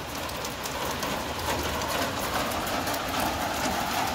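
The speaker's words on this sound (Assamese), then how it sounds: "ভাল লাগিছে পৰিৱেশটো ধুনীয়া বৰষুণ আহিল" Steady rain falls outdoors in a rural Assamese field setting, an even, dense patter with no pauses and no talk.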